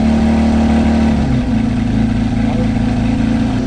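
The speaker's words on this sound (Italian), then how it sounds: "il sound di questa macchina risulta molto ovattato" A quad-turbo supercar engine runs steadily with a muffled, low droning tone that shifts slightly in pitch partway through, heard close and continuous with no talk over it.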